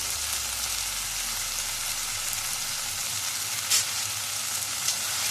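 Spices with black pepper, bay leaf and cinnamon sizzle in a hot pot for cardamom brown onion soup, a constant loud frying hiss with a couple of brief stirring knocks, close up and without voices.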